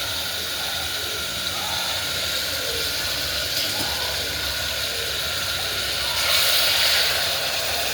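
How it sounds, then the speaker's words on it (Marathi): Hot water poured into mutton frying in oil for a curry, a steady hissing sizzle and bubbling throughout, swelling louder near the end, close to the pot. "आता यात आपण गरम पाणी ओतणार आहे."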